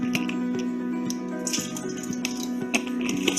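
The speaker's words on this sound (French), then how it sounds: "on va verser toutes ces eaux différentes" Different waters, from tap water to bottled mineral brands, are poured out for a demonstration, giving a faint trickle and drips with light clinks over a steady low hum.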